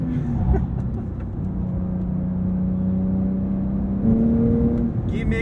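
A 2023 Porsche 911 Sport Classic engine hums steadily while driving, its pitch holding then stepping up as it revs, loud and close throughout with no talk.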